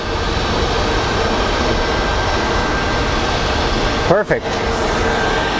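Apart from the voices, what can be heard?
Airbus A220 jet engines on the runway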